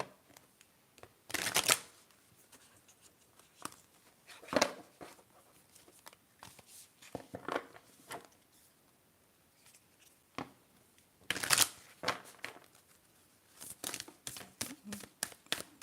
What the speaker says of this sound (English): So let's get your Moonology cards.